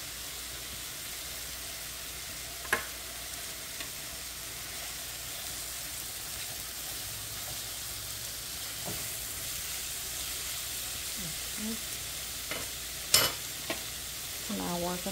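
Onion and garlic sizzle and fry in a hot pan beside ribeye steak and mushrooms, a continuous close hissing crackle with a few sharp utensil clinks and stirring scrapes, no voices.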